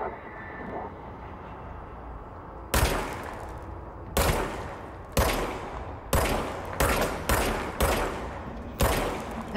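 Gunfire from a strange-looking weapon in the video game Control, loud shots in an irregular series of about eight over a low steady background hum, each with a short ringing decay, no talking.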